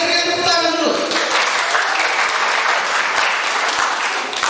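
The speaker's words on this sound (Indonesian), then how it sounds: "kita berikan tepuk tangan dulu." An audience at a high school Indonesian-language debate competition gives a burst of dense, steady applause. A voice speaks briefly over the clapping at the start.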